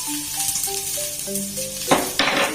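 Onion and garlic frying in a pan with a steady close sizzle, a soft melodic tone running underneath and a couple of scrapes or stirring knocks near the end.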